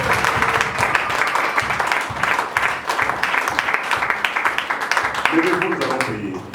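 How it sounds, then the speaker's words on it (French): A church congregation applauds for the glory of God, giving a steady, dense clapping that carries through the whole stretch, with voices mixed in. "Acclamons pour la gloire de Dieu."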